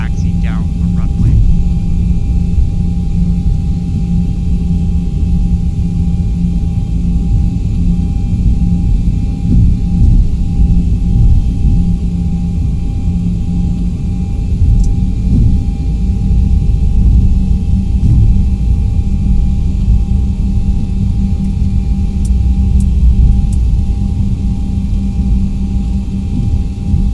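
A flight simulator airplane taxiing down a runway, heard as a steady, loud engine rumble and drone that holds unchanged throughout, with someone talking over it.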